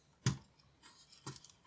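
Two short plastic clicks and rattles as the keyboard cable connector is pulled from a Commodore VIC-20, close and fairly quiet, with a brief pause between them.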